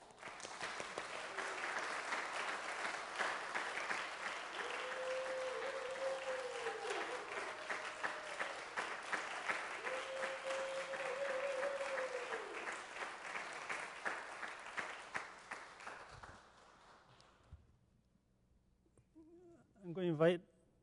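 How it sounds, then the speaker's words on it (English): An audience claps steadily for about fifteen seconds, fairly loud and even, with brief melodic tones sounding underneath before the applause fades out, followed by a short spoken voice at the end. "We can clap."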